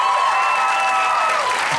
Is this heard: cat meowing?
no